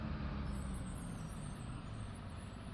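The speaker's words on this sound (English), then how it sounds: "Also, I personally like hearing the bus in the game, you know?" A bus in a bus-driving video game gives off a continuous low engine drone and road rumble, steady and fairly quiet, with no talking.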